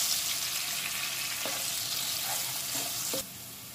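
Chopped fresh local onions frying in a pan for a cauliflower chicken curry, a close continuous sizzle with a few sharp scraping stirs, the frying dropping quieter near the end.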